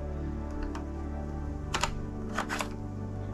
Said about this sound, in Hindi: क्लिक की आवाज़ आएगी और आपकी बैटरी इंसर्ट हो जाएगी